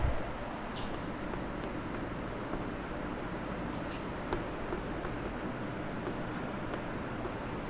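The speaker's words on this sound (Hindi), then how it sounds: "तो इसमें लिखेंगे" Handwriting, probably chalk or pen on a board during a physics class, makes a soft, continuous scratching over a constant noisy background.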